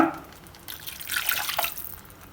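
Water poured into a pan of mushroom curry makes a brief, soft splashing wash that rises and then fades, close by and fairly quiet.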